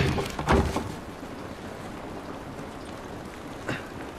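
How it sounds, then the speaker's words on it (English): Rain falling in The Last of Us, a steady diffuse hiss of drops with a couple of louder splashy impacts near the start and end, continuous and moderately loud with no talk. "This rain ain't gonna do us any good."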